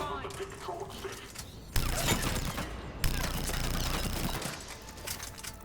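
Gunfire in the sci-fi shooter game Mass Effect 3 on a space station, with rapid bursts and loud sharp shots, the heaviest near two and three seconds, plus mechanical clatter and faint background voices.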